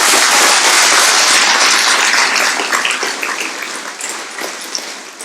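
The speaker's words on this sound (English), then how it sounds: "So give them a round of applause." Loud, dense applause from the audience at a community drug-awareness night, heavy at first and thinning slowly over several seconds.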